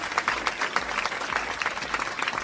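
A small gathering claps for several seconds, a dense, even patter of many hands without cheering, moderately close and steady throughout.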